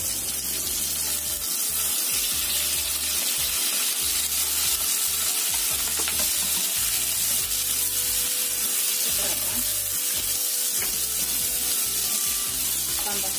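Onion and chili frying in a pan for asparagus in oyster sauce, a loud, steady sizzle with scraping stirs and clatters running throughout.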